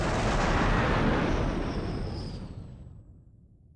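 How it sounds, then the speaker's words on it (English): Jet fighters flying over in a mecha video game: a loud broad roar that fades away steadily over a few seconds into silence, with no talk. "Oh no, it wasn't a plane. It was, jet fighters."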